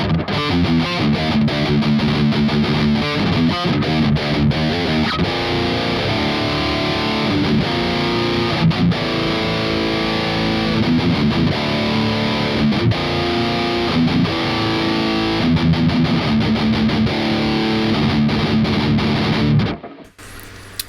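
Distorted electric guitar playing through an STLToneHub amp-sim preset, a loud, dense, steady run of chords and riffs that carries on unbroken for about twenty seconds before cutting off abruptly at the end.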